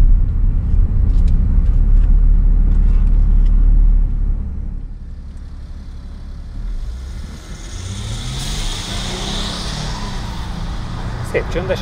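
A very dark green Jaguar XF 3.0 starts and pulls away quietly, its low engine rumble dropping to a softer, steady drive after a few seconds.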